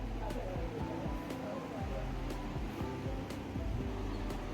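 Low-tide sea waves wash steadily onto Mithbav beach near Devgad, a continuous broad surf roar with no clear breaks, steady and fairly close, with no voices.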